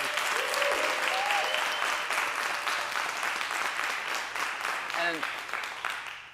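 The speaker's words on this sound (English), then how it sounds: "Give them a round of applause." An audience at a band presentation applauds in a steady, dense wash of clapping, moderately loud and continuous, with a few brief whoops mixed in.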